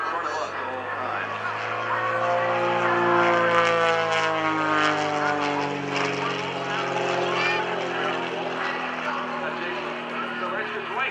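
An aerobatic propeller airplane drones overhead at an airshow, its engine pitch sliding up and down as it turns and maneuvers, loud and steady throughout.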